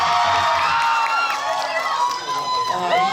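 An audience at a post-screening talk event for the film Ansiseong cheers and shrieks for the actors, a loud dense crowd of high excited voices rising and falling together, close and continuous throughout.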